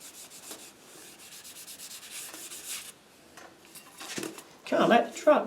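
Sandpaper rubbed along the wooden body of a handmade Native American flute in a series of soft, uneven scratchy strokes, building to louder rough rubbing near the end, with someone talking over it.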